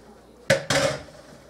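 Cooked, drained macaroni noodles tipped into a baking pan for baked macaroni and cheese, two quick close clattering thumps in rapid succession, then a short fade.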